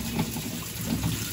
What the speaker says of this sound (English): Filling up with water.